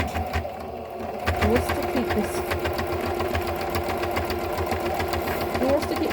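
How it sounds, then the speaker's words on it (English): A sewing machine runs a straight stitch around a fabric lining for a Regency reticule, giving a steady, rapid mechanical whirr with a faint rhythmic knock, while a person talks over it. "So this is a straight stitch on this machine"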